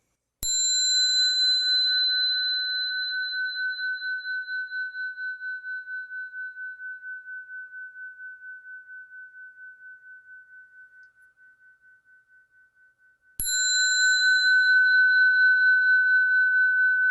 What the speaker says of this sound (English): listen to the bell and follow your breath